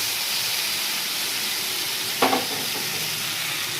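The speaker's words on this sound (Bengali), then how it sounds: "মশলাগুলোতে দেখুন তেল ছেড়ে দিয়েছে, এবারে সিদ্ধ করার ছোলাটা দিয়ে দেবো।" Spices and boiled chickpeas fry in oil in a pan, making a steady, close, broad sizzle throughout, with one brief stirring clatter partway through and no talking.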